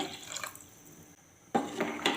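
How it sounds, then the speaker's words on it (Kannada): Water is poured into a mixer jar in short splashing bursts, loud and close, with a quieter pause between pours. "ಈಗ ನಾನು ಮಿಕ್ಸಿ ಜಾರಿಗೆ ಸ್ವಲ್ಪ ನೀರು ಹಾಕ್ಕೊಂಡು ಹಾಕ್ಕೊಳ್ತಾ ಇದ್ದೇನೆ"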